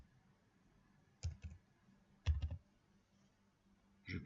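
A few sparse, quiet clicks on a computer keyboard as a new password is typed, three short bursts separated by near-silence.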